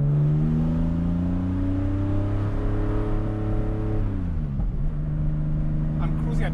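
The deep, throaty engine of a restored 1980 Porsche 911 with a fully open exhaust drones steadily at a 3,000 RPM cruise, its pitch dropping as it eases off near the end, loud and continuous throughout.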